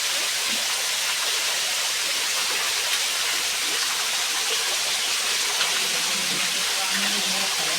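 Continuous rushing water roars loudly and evenly, like a swollen river flowing close by, with no pauses; the river is running high.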